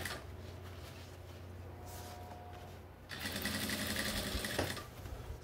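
A sewing machine topstitches lightweight green camouflage fabric on a jungle hat. Quiet handling comes first, then the machine starts partway through and runs in a loud, fast, continuous stitching whir up close.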